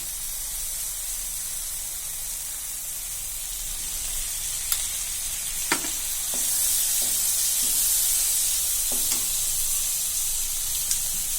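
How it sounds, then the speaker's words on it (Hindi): Ghee sizzles in a pan of cooked peas for poha matar, a steady broad hiss that swells midway, with a few sharp clinks and scrapes of a utensil against the pan. "अब हम इसमें घी डालेंगे।"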